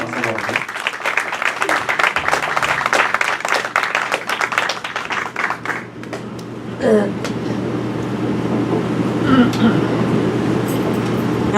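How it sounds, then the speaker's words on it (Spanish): Audience applause at a church leadership school gathering, a dense burst of clapping lasting several seconds that fades into room noise and scattered voices. "Un fuerte aplauso a Silvita."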